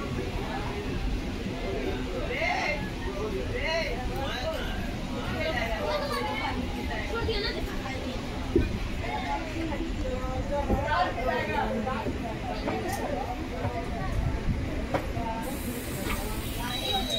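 Railway platform ambience at Deoghar station as a train pulls in, with a continuous rumbling hiss and rolling wagon noise and a crowd chattering throughout, loud and steady.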